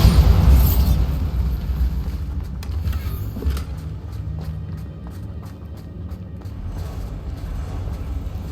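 Bombarda spell explosion in the game Hogwarts Legacy, a loud booming blast at the start that fades into a rumbling tail with scattered crackles and debris pops.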